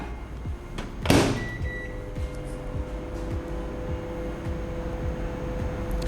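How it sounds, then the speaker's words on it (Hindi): A microwave oven melts white chocolate for frosting, a quiet steady hum with a faint rhythmic rotating clunk after a brief louder clatter near the start. "सबसे पहले 30 सेकंड के लिए हम इसे माइक्रोवेव करेंगे"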